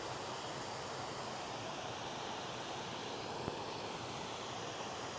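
Water pours over a waterfall at the former Jackson Milling Company site, a steady, even rushing roar that continues without a break throughout.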